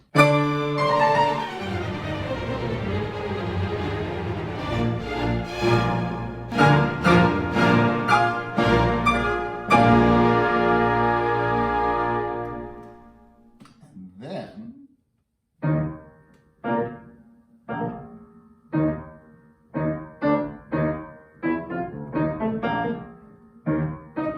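Fast, energetic solo piano rendition of the Eroica Symphony finale, with rapid runs and full chords, pausing briefly, then resuming with short punchy repeated chords.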